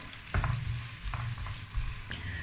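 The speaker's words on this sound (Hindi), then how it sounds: "अब प्याज को करेंगे हल्का सा ब्राउन।" Chopped onion with cumin fries in a pan until lightly browned, a soft crackling sizzle broken by a few louder stirring scrapes, close and without speech.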